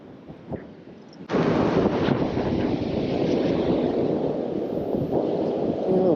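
Wind buffets a microphone on a beach after a storm. The roar rises suddenly after a second and then holds as a steady, loud rush with no talking.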